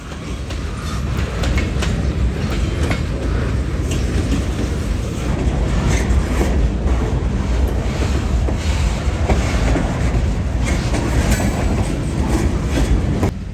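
Train rolling along the Cascade subdivision near a creek that runs down a steep hill, a loud continuous rumble of wheels and rail with faint clickety-clack, steady and close throughout.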